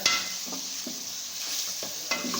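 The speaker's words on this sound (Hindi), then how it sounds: "जब तक ये अच्छे तरीके से तैयार हो नहीं जाते, हमने इसकी भुनाई करते रहना" Sliced bitter gourd and onions fry in a pan for a salan, a constant sizzle punctuated by several rhythmic scrapes and knocks of a stirring spoon, close and with no voices.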